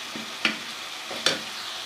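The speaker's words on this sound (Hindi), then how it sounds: "कीमा अल्हम्दुलिल्लाह अच्छा सा फ्राई हो गया।" Minced meat keema fries with spices in a pan, a steady close sizzle broken by two sharp scraping stirs.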